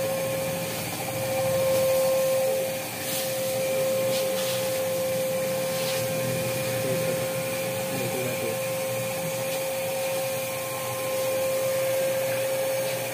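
A vacuum cleaner runs continuously while a large seven-foot-wide teddy is vacuumed, a steady close motor whine with a sustained tonal hum and airflow rush, varying slightly as the nozzle moves across the plush.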